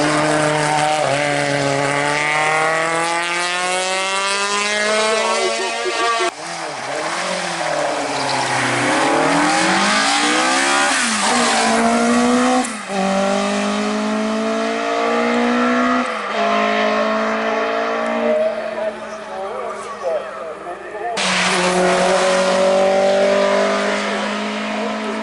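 Alpine race car at full speed on a French mountain hill climb, its engine screaming through repeated rev climbs and sharp gear shifts, loud and close.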